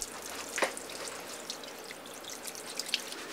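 Water at an old barbershop sink with no water heater or shower during a hair wash, a faint steady trickle with a few light splashes and drips, quiet and close, no voices.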